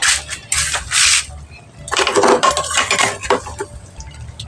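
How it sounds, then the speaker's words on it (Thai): Mustard greens are stir-fried in a pan, with metal utensil clatter and scraping against the pan in short bursts, close and loud, with a sizzling undertone between strikes. "นี่ค่ะทุกคนผักกาดหน้า เนี่ยผักกาดหน้าเนาะ จะไปผัดให้ดูนะคะ"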